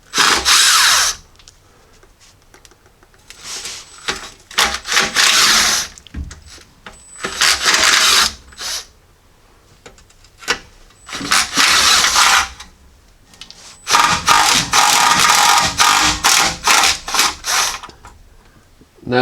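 Power tool driving out 7/16 oil pan bolts on a Jeep 4.0L engine, loud whirring bursts of a few seconds each, repeated with short pauses, close and alone.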